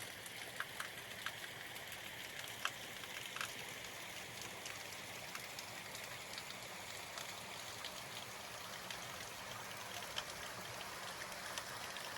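A mountain stream flows through a valley near a hillside shrine in Kyoto, a faint, steady watery rush with scattered light drips and patters.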